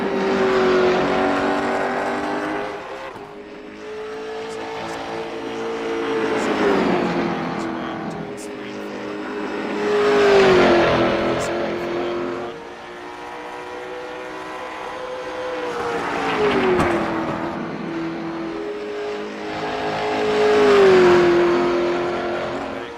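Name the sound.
race cars driving on track in a sim racing video game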